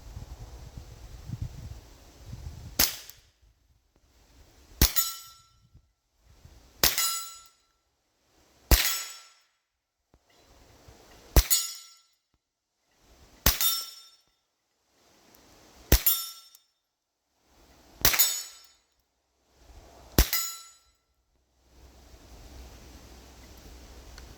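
A scoped rifle fires at a metal target outdoors: nine separate sharp shots with bright impact rings, spaced about two seconds apart, each ringing briefly before quiet gaps.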